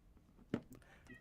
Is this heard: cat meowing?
yes